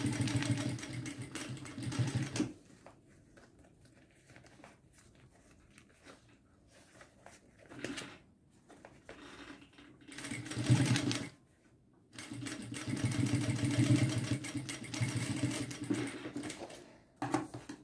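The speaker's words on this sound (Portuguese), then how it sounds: "passo a costura" A sewing machine stitches a seam on a square fabric pouch in several close bursts of rapid, steady whirring, with quiet pauses in between and a long final run.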